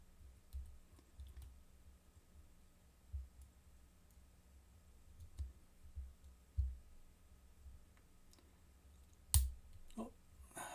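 Lock being picked, giving faint scattered ticks and taps over a low background rumble, then one sharper, louder click near the end.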